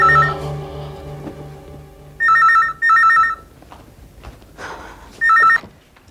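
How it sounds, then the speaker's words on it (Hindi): A telephone rings unanswered in a repeated electronic double trill, loud and close, sounding in several bursts with short pauses between them. "घंटी बज रही है"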